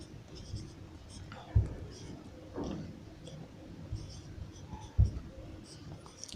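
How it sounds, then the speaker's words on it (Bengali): A pen or chalk writes on a board during a chemistry lesson on alcohol oxidation: soft, scratchy strokes with a couple of sharper taps, heard close, with a faint voice murmuring in the background. "এবার আমি লিখছি 2 ডিগ্রি অ্যালকোহল।"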